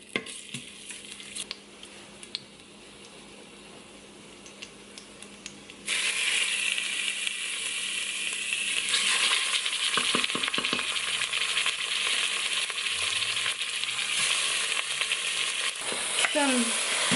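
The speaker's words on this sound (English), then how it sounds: "So I'm putting all the pork in, and then just stir it." Sliced pork hitting hot vegetable oil with ginger in a pan, a loud sizzle that starts abruptly partway through and keeps going, with spatula stirring clatter layered on top.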